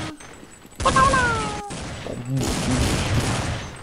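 Gunfire bursts from a Counter-Strike 1.6 match crack loudly and close, a dense volley of shots and impacts filling most of the moment with little pause.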